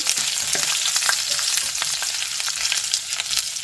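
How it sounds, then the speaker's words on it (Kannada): Spices sizzle and crackle steadily in hot mustard oil, a dense bright frying hiss with small pops and stirring, close and alone without voices. "ನಂತರ ಈ ಎಲ್ಲ ಸ್ಪೈಸಸ್ ಮಸಾಲೆಗಳನ್ನು ಇದಕ್ಕೆ ಹಾಕ್ಕೊಂಡು ಫ್ರೈ ಮಾಡಿಕೊಳ್ಳುವ"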